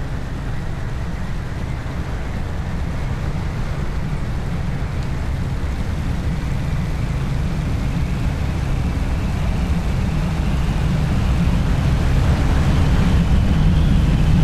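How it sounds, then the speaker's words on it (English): A simulated P-40 fighter plane's engine roars in a steady, dense drone that swells slightly louder toward the end during a high-speed dive in a flight simulator. "The P-40 was famous for its high-speed dives. Let's try one. Just watch and listen to your aircraft."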